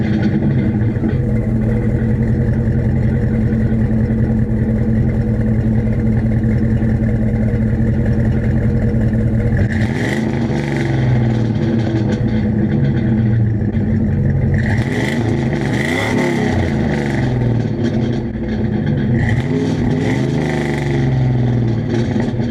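A second-generation Dodge Ram's 318 5.2L V8 rumbles at a steady low idle through its exhaust, then is revved twice in quick, loud blips before settling back to idle, close to the pipes with no talking.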